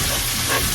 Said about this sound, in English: So the meat is cooking beautifully.